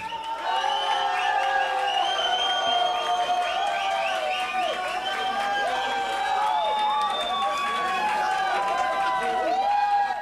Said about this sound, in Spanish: Vamos entonces, aplausos para Eric.